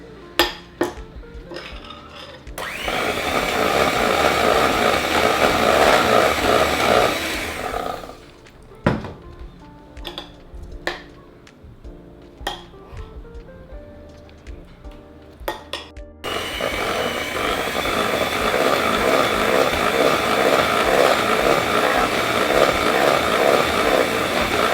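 Electric mixer whirring loudly as it beats cream with custard for a Karpatka cake, running in two long stretches with a pause between where spoon clinks and bowl knocks are heard.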